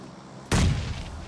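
In the BGMI battle game, a single sudden booming blast erupts out of quiet and rumbles loudly before fading into a lingering roar.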